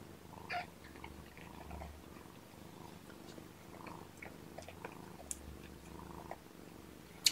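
A kitten purrs softly and steadily up close, a low rhythmic rumble with a few small clicks and rustles.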